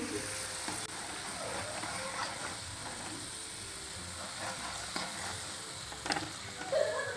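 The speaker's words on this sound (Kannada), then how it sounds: "ಚೆನ್ನಾಗಿ ಫ್ರೈ ಆಗಬೇಕು." Thin potato slices fry in a pan with a steady, moderate sizzle and faint scraping, continuous throughout with no talking.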